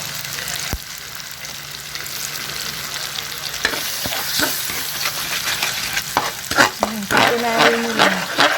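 Steady sizzling of tomato paste frying in a pan over lowered heat, broken by scraping stirs and utensil clinks that grow busier toward the end.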